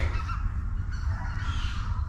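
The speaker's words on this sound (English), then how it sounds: "There are a ton of geese behind me" A large flock of geese along a river, honking in a steady, dense chorus that stays loud and continuous, with heavy low rumble from wind or handling noise underneath.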